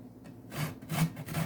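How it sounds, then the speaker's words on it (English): Lemon peel scraped across a hand grater, a few quick rasping strokes in a loose rhythm, close and quiet. "There's many different kind of grater you could use. I'd prefer to use this one."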